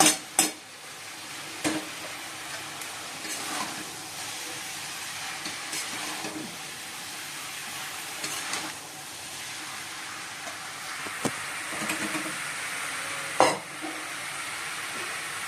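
Shredded cabbage with spiced potatoes, cumin, ginger, coriander and tomato, stirred in a pan: light sizzle under intermittent scraping and clinking of a utensil against the pan, close up, with no talk.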